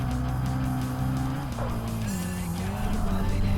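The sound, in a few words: car handbrake drift with tire squeal in Tokyo Xtreme Racer Drift 2 video game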